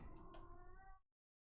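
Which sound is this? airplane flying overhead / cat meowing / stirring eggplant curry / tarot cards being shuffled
cat meowing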